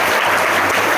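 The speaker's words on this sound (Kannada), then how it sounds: "ಜೋರಾಗಿ ಚಪ್ಪಾಳೆ ಮೂಲಕ" Loud, dense applause from an audience at a devotional storytelling discourse, steady clapping filling the whole moment without pause.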